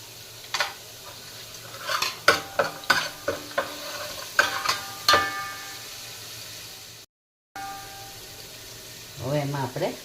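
Whole spices and homegrown, slightly green bay leaves hitting hot oil for misal, with a rapid series of loud crackling bursts and utensil clatter, then a brief gap and a softer sizzle at the end.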